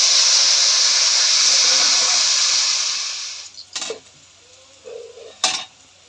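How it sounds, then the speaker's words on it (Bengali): Potatoes and eggplant fry in hot oil with cumin, a loud, dense sizzle filling the first three seconds before dying down, followed by a few scraping stirs and clinks against the pan. "এবার আলু বাগুনগুলা ভালো করে ভেজে নিব।"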